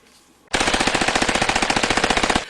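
Uzi submachine gun firing one sustained rapid burst of about two seconds, loud and close, with evenly spaced sharp shots and nothing else heard.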